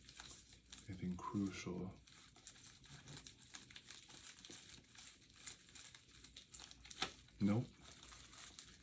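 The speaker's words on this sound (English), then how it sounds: "I'm gonna check through these cards real quick" Tarot cards being shuffled and checked through, soft crinkling and flicking bursts of card handling between quiet pauses, with a person talking briefly.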